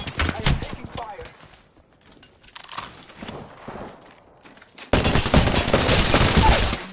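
Apex Legends gunfire comes in rapid bursts, with dense automatic volleys at the start and a louder sustained barrage near the end. Players talk between the shots.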